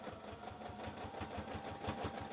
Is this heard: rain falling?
no